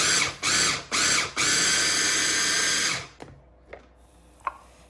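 Tiny leaves for a Sri Lankan leaf sambol whirred in a kitchen machine, with three loud, close whining pulses that build to one longer run before stopping, followed by a few faint knocks.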